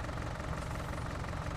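A vehicle engine idles in Farming Simulator 19, a steady, even rumble with a low throb that holds constant and moderately loud for the whole short stretch, with no talk.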